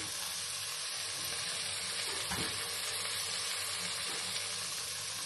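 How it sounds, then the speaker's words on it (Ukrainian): Onion frying to a golden crust for Hungarian goulash, a steady, even sizzle and hiss that runs unbroken, fairly quiet and close, with no voices. "Спочатку засмажується цибуля до золотистої скоринки"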